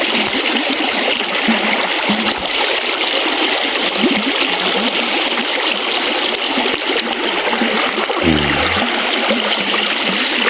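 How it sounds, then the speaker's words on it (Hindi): A forest stream flows continuously through jungle, a dense, loud rush of running water with steady gurgling, close by and unbroken, with no talk over it. "आ गए बीच धारा में पानी पीने के लिए। एक नंबर का पानी चल रहा है"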